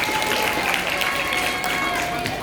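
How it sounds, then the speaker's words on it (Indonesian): A seminar audience on entrepreneurship claps hands together, a continuous mass of clapping from many people in a room, moderately loud and steady with no pause. "tepuk tangan dong, tepuk tangan."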